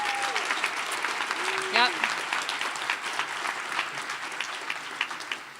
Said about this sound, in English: A round of applause, please, for them as well.